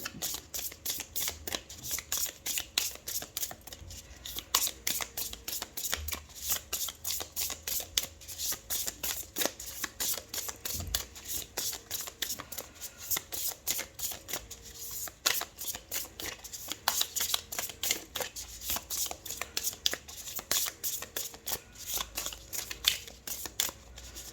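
Tarot cards are shuffled by hand at close range, a long run of rapid, crisp riffling flicks in quick bursts with short pauses, continuing alone without any talking.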